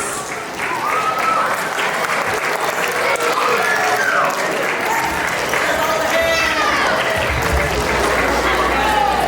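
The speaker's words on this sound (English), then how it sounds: "Let's go ahead and round of applause." Sustained applause and cheering from a school assembly crowd at a Women's History Month event, loud and continuous throughout, with whoops and voices rising over the clapping.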